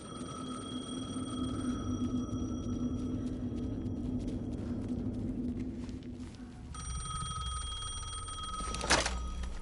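In the video game Alan Wake 2, a telephone rings with a steady electronic tone over a low rumbling ambience, and a sharp click or burst comes near the end.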